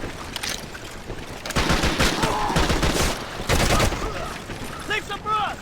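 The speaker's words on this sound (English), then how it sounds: "Everything from the gunshots to the explosions, all the sound effects here are great." Gunfire in the Medal of Honor: Heroes video game, dense bursts and a rattling fusillade mixed with battle noise, loud and close, with voices shouting over it.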